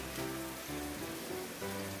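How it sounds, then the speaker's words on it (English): Water pours steadily into a pot for instant chicken-flavour noodles, a close, continuous splashing rush with a slight gurgle that shifts in pitch as the pot fills. "I'm going to add 2 cups of water in here"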